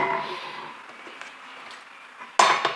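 Metal and other dishes clink and knock as a dishwasher is unpacked by hand, with light taps through the middle and a sharper, louder clatter near the end.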